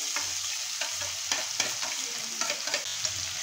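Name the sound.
onion added to crackling cumin, frying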